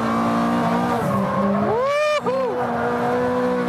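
A Ferrari F430 Scuderia on fresh tyres drifts under acceleration in the Fast Club racing game, its engine revving steadily as the tyres squeal in a rising, wavering screech midway through.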